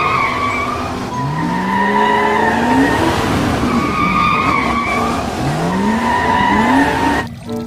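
A McQueen toy car skids with loud, repeated tire squeals that rise in pitch over a continuous engine roar. The squeals come in several sweeps, close and prominent.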